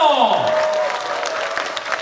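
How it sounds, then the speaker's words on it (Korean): An audience at a book launch event in Yeosu gives dense, sustained applause. A loud amplified voice is heard at the start before the clapping carries on steadily. "괜찮으시면 박수 한번 보내주세요."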